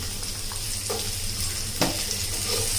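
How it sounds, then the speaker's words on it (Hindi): Finely chopped onion frying in a pan with ginger and garlic gives a steady, close sizzle throughout, with a few sharp clicks of stirring breaking through. "अब इसे भी डालकर हम कुछ सेकंड भूनेंगे।"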